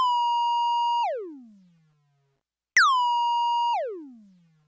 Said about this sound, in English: That's kind of a bass sound.